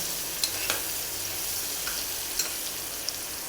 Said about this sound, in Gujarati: આ ડુંગળી એડ કરવાની છે ઝીણી જ મેં કાપેલી છે